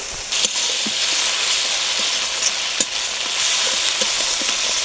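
Ground dry and green chilli paste frying in a pan for a singi fish curry, splashed with a little water and stirred, giving a loud, steady sizzle with scattered spoon scrapes and taps throughout.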